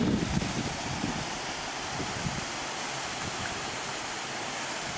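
Jilumba Falls in Australia running with low water over rock pools, a steady broadband rush of falling and flowing water that fills the whole stretch, with some wind buffeting at the start.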